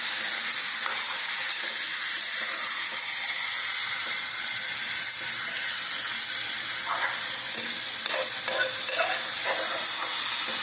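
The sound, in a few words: chicken and tomatoes frying and being stirred in a pan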